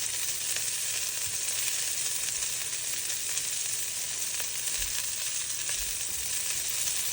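Bacon frying in a pan, four slices, gives off a steady, close sizzle that crackles evenly and holds level the whole way through, with no voices over it.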